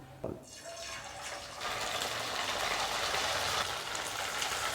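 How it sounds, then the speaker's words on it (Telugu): Chicken pieces are dropped into hot oil and begin frying, producing a sudden loud, dense sizzle that builds and then holds steady, with a voice talking briefly at the start. "ఇప్పుడు స్టవ్ని మీడియం ఫ్లేమ్లోకి చేసుకొని చికెన్ వేసుకుందాం"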